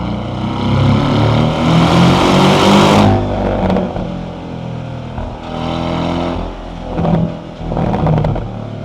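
A car engine rumbles and revs loudly up close, its exhaust droning steadily, easing off briefly, then surging again in a few bursts.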